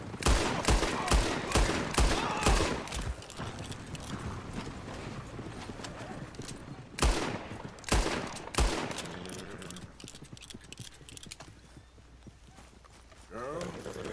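Gunfire in the Red Dead Redemption 2 video game: a rapid burst of sharp shots at the start, then two more loud isolated blasts later, mixed with horse hooves, a neigh and talking voices.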